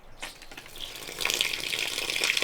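Water runs and splashes from a rain barrel beside a greenhouse after a Quebec winter, a continuous hissing pour that grows louder halfway through.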